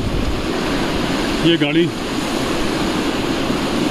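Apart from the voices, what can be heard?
fast-flowing flood river water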